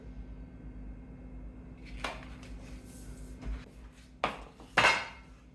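A tray of pickle chips clanks into a preheated home oven, with a few metallic knocks and a rattling slide over a low hum, the last two clatters loudest.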